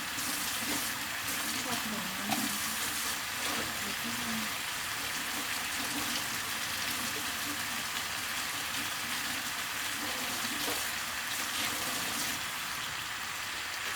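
Crispy pork and basil stir-fry with a little hot water added sizzles steadily in a hot pan, a dense, continuous frying hiss throughout with occasional clinks, and someone talks faintly underneath.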